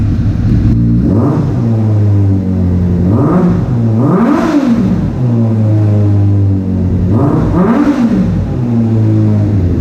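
A Suzuki GSF600 Bandit motorcycle fitted with a Delkevic exhaust, idling loudly and close with a steady low rumble, blipped into several sharp revs that rise and fall in pitch.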